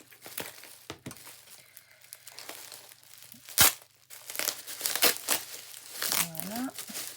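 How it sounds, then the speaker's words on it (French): Crinkling and tearing noises as tape is pulled away in bursts, with a sharp rip midway and rustling handling around it. "on enlève tout ça, tout ce scotch."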